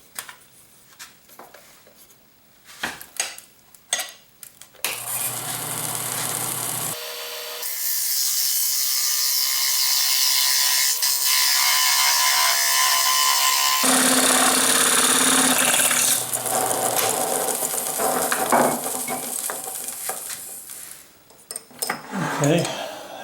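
A Robert Sorby 1/16 inch gouge cuts a bowl turned from a board on a wood lathe, giving a loud, sustained scraping rush with a brief pause partway through, framed by quieter handling clatter.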